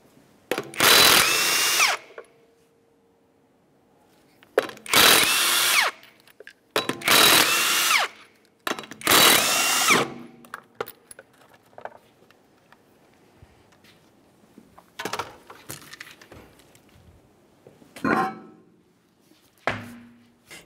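Loud bursts of a power impact tool spinning off the 19mm lug nuts on a 1994–1997 Honda Accord front wheel, four main whirring runs with pauses between, followed by quieter clicks and rattles of parts being handled.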